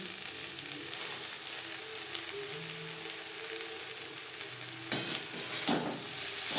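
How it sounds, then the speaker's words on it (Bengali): Drumstick flowers and brinjal fry in a pan over low to medium flame, a soft continuous sizzle with a few louder scraping stirs near the end, no talking. "বেগুনের সাথে সজনা ফুল বেশ ভালো করে মিক্স করে দেবো।"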